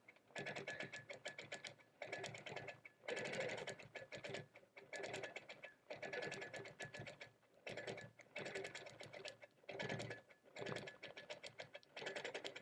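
A mini sewing machine runs in bursts while stitching a leaf outline on a quilt, its fast needle clatter starting and stopping every second or so, close and fairly loud with no talk.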